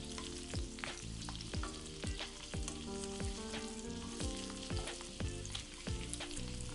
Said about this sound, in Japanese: 15分経ったらひっくり返してまた10分ほど蒸し焼きにします。